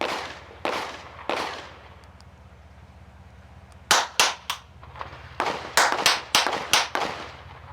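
Gunshot box sound device firing sharp, loud cracks from about three feet away, first two spaced single shots, then a pause, then a rapid-fire burst of close, piercing reports.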